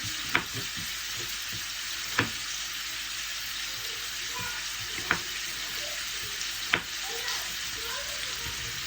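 Steady sizzling of potatoes frying in butter in a pan, with a few sharp clinks of a utensil against the pan.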